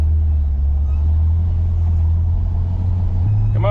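A vintage Chevy C10 truck that sat for 33 years rolls along with a steady, loud low rumble that holds even and continuous throughout, without any talk over it.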